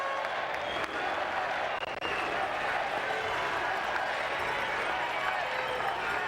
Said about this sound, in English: The crowd is going nuts, chanting USA